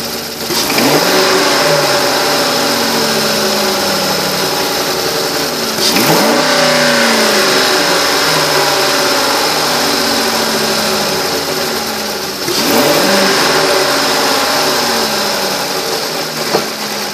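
Engine of a 2008 Lincoln Mark LT running in drive, a loud, steady hum recorded close by, with three brief surges or clunks spaced several seconds apart and no talking.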